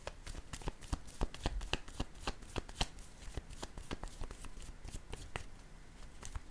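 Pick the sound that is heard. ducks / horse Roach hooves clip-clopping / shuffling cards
shuffling cards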